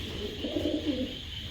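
A female pigeon coos softly in a short low warbling run of notes, close by, over a steady background hum.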